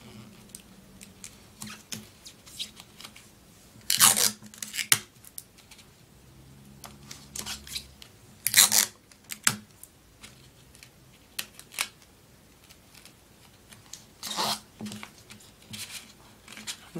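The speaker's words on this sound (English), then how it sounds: "And you're going to take your tape." Tape is pulled and pressed onto paper in several brief, crisp ripping bursts separated by quiet, with small crinkles and taps close by.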